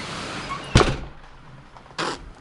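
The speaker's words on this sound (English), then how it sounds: "I gotta close the door." A door closes during a rainstorm, two sharp thuds about a second apart, near and fairly loud above a faint background hiss of rain.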